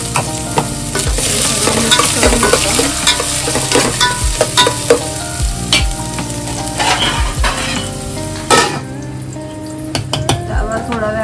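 Garlic, curry leaves and onion sizzle in hot oil during tempering for a jackfruit bhaji, a loud close frying hiss broken by repeated clinks and scrapes of a spoon stirring in the pan.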